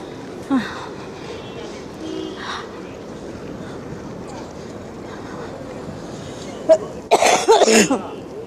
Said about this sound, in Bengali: কাশতে কাশতেই ব্লগ বানাচ্ছি।